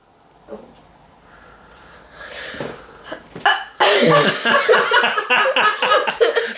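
After a few quiet breaths, a sharp sneeze bursts out, followed by loud, lively talking from several people.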